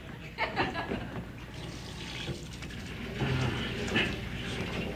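Water runs from a tap during washing up, a continuous splashing flow with clinks and handling sounds, fairly close, with faint speech in the background.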